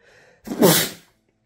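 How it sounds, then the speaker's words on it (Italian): A single loud sneeze bursts out after a brief quiet breath, close to the microphone, then fades into silence. "Devo starnutire."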